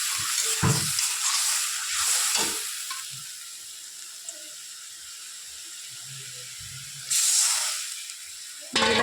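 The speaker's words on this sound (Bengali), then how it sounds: "দিয়ে দেবো এর মধ্যে দিয়ে ভালো করে মশলাটাকে কষতে নেব" Onion and spice masala fries in a pan with a bright sizzle while a spoon stirs and scrapes in irregular strokes, and louder hissing bursts come near the end.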